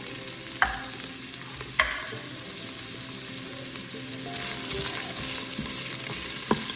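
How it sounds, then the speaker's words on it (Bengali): Onions fry in hot oil in a pot with a bay leaf, for a Bengali-style venison stew: a steady close sizzling hiss broken by a few sharp stirring clicks, with no talking. "পেঁয়াজগুলোকে একটু লাল লাল করে ভেজে নেব।"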